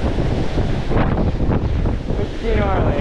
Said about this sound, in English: it's pretty windy up here at the top of our last climb